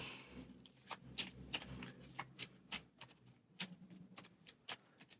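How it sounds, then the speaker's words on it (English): Playing cards shuffled by hand during a solo tabletop session of the deck-building game Aeon's End, a quiet series of crisp flicking and tapping riffles close to the mic, irregular and without talk. "Shuffle."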